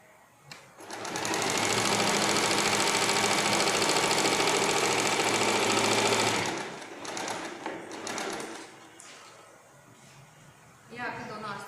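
Sewing machine stitching a blouse, a loud continuous whirring run of about six seconds, then shorter bursts and pauses as the fabric is handled.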